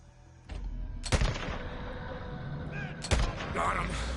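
Sniper fire in the game Days Gone: two loud, sharp rifle shots about two seconds apart, each with a rumbling echo, over steady background noise and someone talking.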